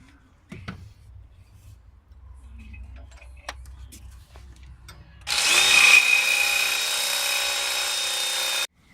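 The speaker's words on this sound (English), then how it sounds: "Got our UV Makita 90-degree angle drill" A few quiet taps and clicks, then a Makita right-angle power drill starts up loudly and runs steadily for several seconds before stopping abruptly, drilling out a broken exhaust manifold stud on a Nissan ZD30 engine.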